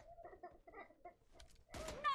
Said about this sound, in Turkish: Kuşun mu ötüyor Mero?